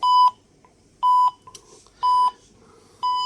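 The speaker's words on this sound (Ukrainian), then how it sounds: "От, спрацювала, включилась сирена." A Geiger counter dosimeter alarm sounds four evenly spaced electronic beeps about a second apart, each a sharp tone burst with quiet gaps between, triggered by a radioactive bag reading over 30 microroentgen per hour.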